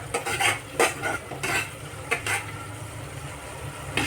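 Masala frying in oil while being stirred, with repeated clattering scrapes of a spoon against the pot over a low sizzle, close by and uneven in rhythm.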